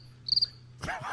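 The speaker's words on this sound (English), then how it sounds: "I wish we had a cricket sound effect. It was already coming in." A cricket gives three quick, high chirps, faint and alone, before voices and room noise take over.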